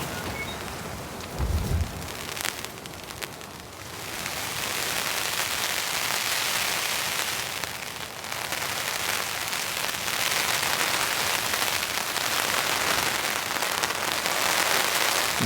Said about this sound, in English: I can hear a few raindrops hitting the tarp now.